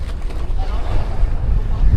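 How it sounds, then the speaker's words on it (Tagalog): Strong wind buffets a boat out at sea off Kalatagan, Batangas, a steady low rumble of gusts and water noise with microphone wind buffeting, loud and continuous throughout. "Ang weather ngayon ay malakas sa laot."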